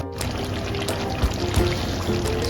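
Fresh cream is poured into a malai paneer curry in a pan, a short soft liquid pour with a few light splashes and clinks, close by.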